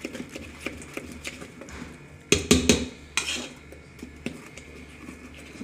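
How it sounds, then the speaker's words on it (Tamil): Dosa batter with cumin being mixed in a bowl, a steady run of soft scraping and clinking strokes with a louder burst of clatter midway, close and fairly quiet, no voices. "இதை நல்லா கலக்கி விட்டுக்கோங்க."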